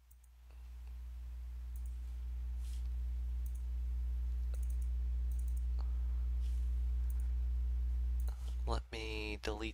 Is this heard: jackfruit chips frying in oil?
no